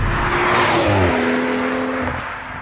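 BMW M140i engine on the road, a loud, close, continuous growl with a rising then settling tone as the car pulls and cruises, nothing else over it.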